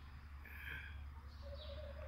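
Faint bird calls from two bato-bato birds fighting outdoors, a few short chirps and coos rising over a low steady hum, distant and sparse.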